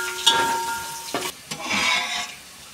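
Asafoetida dropped into hot oil for a tempering, giving a soft sizzle with a few sharp spoon-on-pan clicks and a brief stir, close and fairly quiet.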